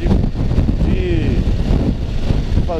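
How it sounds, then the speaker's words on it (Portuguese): Strong wind gusts batter a rider on a Suzuki V-Strom motorcycle, roaring across the microphone in a rough continuous rush while someone talks over it. "Olha o vento, bateu aqui, quase me jogou pra outra pista"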